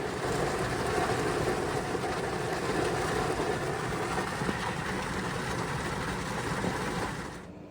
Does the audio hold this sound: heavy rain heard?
yes